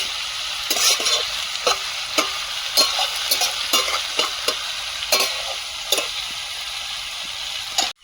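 Shrimp with pumpkin, potato and Malabar spinach sizzles steadily in a pan, with a run of sharp spatula scrapes and clicks from stirring breaking through the constant hiss.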